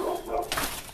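Neighbor's dogs barking outdoors, a brief burst of barking and yipping at a middling distance, over a steady background wash, lasting about a second.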